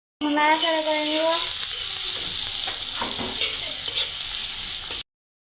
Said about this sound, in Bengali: পেঁয়াজটাকে ব্রাউন করে নিব, নাড়াচাড়া করে নিব